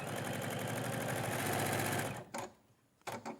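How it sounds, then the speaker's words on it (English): A sewing machine stitches fabric pieces together along one side, a close, steady rapid mechanical whirring for about two seconds before stopping, followed by a few light handling clunks. "I'm going to stitch down one side to start with. So I'm sewing it together."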